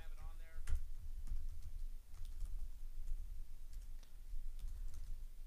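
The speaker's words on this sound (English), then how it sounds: "I'm going to type this real quick for you guys." Computer keyboard keys clack in quick irregular bursts, fairly faint, over a low steady background hum, with speech mixed in.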